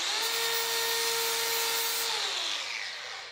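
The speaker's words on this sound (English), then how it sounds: "Take my cutoff wheel with a flapper wheel on it." An angle grinder with a flap wheel grinding down rivets on a 1980 Kenworth truck whines steadily at close range, a grinding drone with a sustained tone that winds down at the end.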